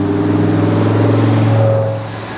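A car's engine revs and drones loudly and steadily near the Singapore F1 night racing track, easing off slightly toward the end, with no talking.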